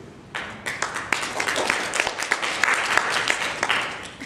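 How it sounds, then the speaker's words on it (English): Applause from an audience at a meetup group presentation on the Sunshine Coast starts abruptly and carries on steadily, dense overlapping claps with a few sharper individual ones standing out. "How come Chris didn't get a clap?"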